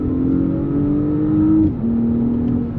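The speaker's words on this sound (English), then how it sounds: "that V6, it has this like Nissan GT-R-ish sound to it" A V6 engine revving steadily with a smooth droning note that climbs, then drops briefly as a gear change hits, loud and close with no talk over it.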